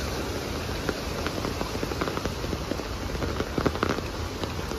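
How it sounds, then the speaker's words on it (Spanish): Heavy rain falls in Huajuapan de León, Oaxaca, with runoff water pouring down a sloped street: a dense, steady hiss of rain and rushing water, dotted with sharp drips and splashes close by. "Así llueve en nuestro querido Huajuapan."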